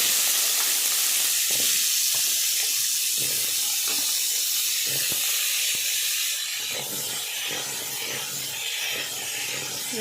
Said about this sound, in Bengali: আলুগুলো ছেঁকে ছেঁকে তেলের মধ্যে দিয়ে দিতে হবে